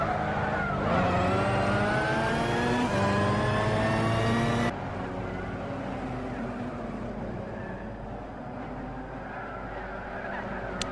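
GT300 race cars in a racing video game lap the Nurburgring, engines droning loudly with rising and falling pitch as they accelerate and shift, a dense, steady roar that drops slightly partway through.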